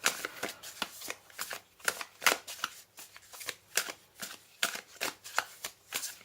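Oracle cards shuffled during a card reading, a series of sharp, rhythmic riffling and slapping bursts heard up close, evenly spaced throughout.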